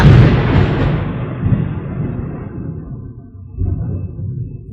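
Firecrackers set off outdoors to celebrate a baptism: a loud booming burst at the start rumbles away, followed by a second, softer thump a few seconds later.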